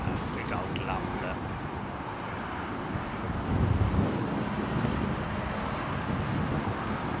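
Strong wind of about 35 miles an hour at Heathrow Airport rumbles and buffets the microphone in a continuous, dense roar that swells slightly midway.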